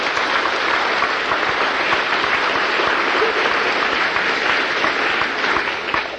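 Live comedy audience at a Bill Hicks show in Egham giving a steady, full round of applause, dense and even throughout with little else heard.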